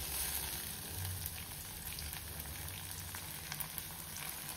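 Green peas fry in a pan with a steady, moderately loud sizzle and a few faint stirring knocks, with no voices.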